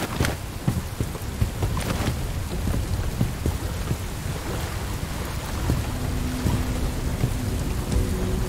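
Steady heavy rain with occasional low thunder rumbles in the video game Bright Memory Infinite, a continuous dense downpour with no talking, a faint tonal hum entering near the end.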